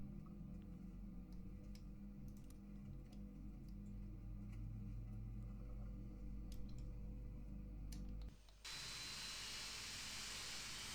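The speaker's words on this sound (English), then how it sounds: "Look at that beautiful engine starting" Boeing 757 jet engine spooling up in a flight simulator, a steady whine and rumble building for several seconds, then a sudden shift into a loud, bright rushing roar.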